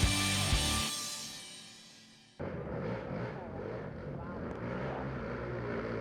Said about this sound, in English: This is Ohio's Walker Fowler riding on the NFAB Ampro factory-back Yamaha YFC 450 ATV and getting away right now from Adam McGill,